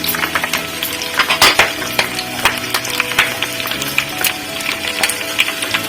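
Green chillies and ginger pieces tossed into a pan for ven pongal fry with a steady loud sizzle, punctuated by clattering spoon strikes and scrapes against the metal pan.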